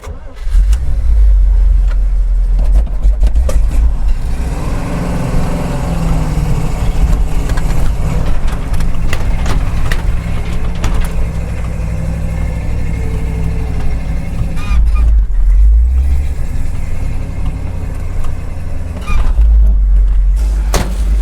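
A rock bouncer truck's engine runs steadily after a slow, struggling crank, with a loud, rough low rumble that stays close and constant and swells briefly now and then.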